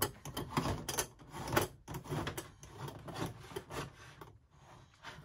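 Parts of a Vegano coffee pot are screwed together, giving soft, close scraping and rubbing bursts in short uneven strokes, quiet and with no one talking.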